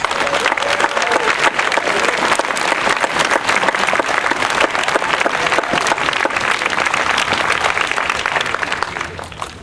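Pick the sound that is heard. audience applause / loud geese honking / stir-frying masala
audience applause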